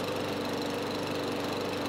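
A lawn mower engine that had sat unused for three years runs steadily after starting, a loud, continuous close-up drone with a rough, pulsing rhythm and no talking.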